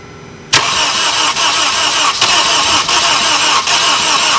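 A Honda Accord whose engine took in rainwater cranks briefly after a quiet start, catches and fires up, then settles into a loud, steady idle close to the microphone with small periodic dips.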